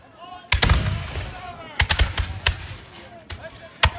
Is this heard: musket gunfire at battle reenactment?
yes